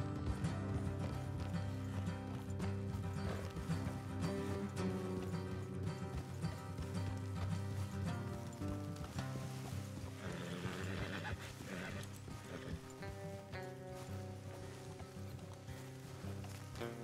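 Horse hooves clip-clop steadily with an occasional whinny in Red Dead Redemption 2, set against a continuous swell of orchestral music that fills the whole stretch.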